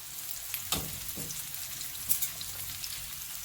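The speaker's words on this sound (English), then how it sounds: "I've got the smaller pieces in this other skillet here." Chicken pieces sizzle in a non-stick skillet with a steady, close frying hiss, broken by a few sharp pops and clinks.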